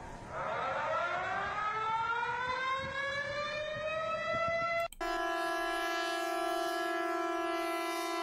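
A loud civil defense emergency alert siren wails upward in a long rising tone, then cuts abruptly to a steady, sustained harmonic blare.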